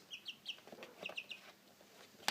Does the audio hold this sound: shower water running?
no